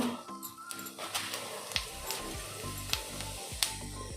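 Asafoetida, cumin, and ginger-garlic paste sizzle in hot ghee for dahi bhindi, a close, crackling fry with sharp pops and spatters scattered through the steady hiss.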